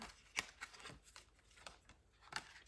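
Tarot cards are gathered and shuffled close by, making soft, quiet riffling and flicking sounds in uneven bursts.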